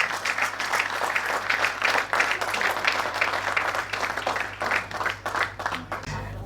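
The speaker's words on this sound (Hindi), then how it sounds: "जोरदार तालियों से स्वागत करें वरुण आनंद भैया का" Audience applause welcomes a poet at a mushaira and kavi sammelan, a loud stretch of clapping from a sizable crowd with uneven bursts, tapering off near the end.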